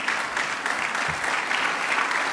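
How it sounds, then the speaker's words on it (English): Steady audience applause at an award presentation event, dense and continuous clapping from a crowd with no voices over it. "He's clapping."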